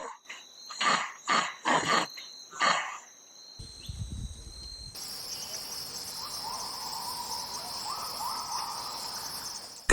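Insects hum in a Borneo rainforest, a steady, shrill, continuous buzz that fills the second half after a few rhythmic animal calls open the scene.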